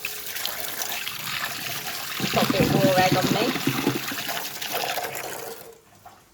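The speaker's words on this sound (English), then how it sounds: "I need to run some water, fresh water." Fresh water runs from a kitchen tap, a steady near splashing stream that swells in the middle, with a person speaking briefly over it, before it cuts off at the end.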